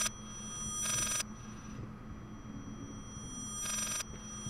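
An electronic telephone ring in the video game Layers of Fear sounds in two separate bursts about three seconds apart over a low, steady hum.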